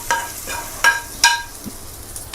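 Lentils and tempering spices frying in hot oil for a gourd and tomato rotti chutney, crackling in short bursts with several sharp pops and light stirring, close and alone without any talk.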